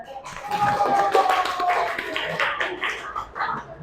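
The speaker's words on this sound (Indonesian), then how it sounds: "Tepuk tangan untuk Indah" A classroom of students claps for a classmate, a brisk burst of hand claps mixed with light tapping, with a teacher's voice and children's voices faintly heard over it.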